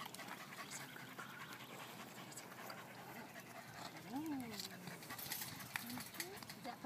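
A dog pants softly and rapidly, with a brief whimper, amid background noise and faint talking.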